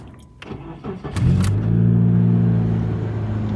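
A few clicks and handling sounds come first, then a Mitsubishi Eclipse engine cranks and catches. It settles into a loud, steady, close idle.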